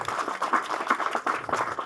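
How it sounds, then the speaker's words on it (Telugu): An audience at a movie audio launch event claps steadily, producing a dense, continuous patter of applause that fills the room at moderate loudness. "ఒకసారి గట్టిగా చప్పట్లు కొట్టండి అబ్బా"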